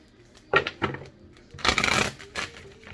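Playing cards being shuffled during a tarot-style reading: a few quick riffling bursts near the start, then a longer, louder riffle in the middle and a short final flutter, close up and heard alone.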